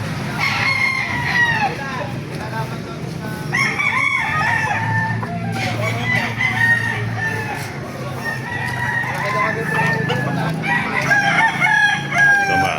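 Chickens and roosters at a tyangge market in Baliuag, with repeated rooster crowing and clucking from several birds over a busy outdoor background, with people speaking faintly in the distance.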